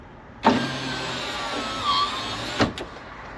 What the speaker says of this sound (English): So we know the motor works, we know the regulator works, and we know that the guides and everything on the window are on there pretty good.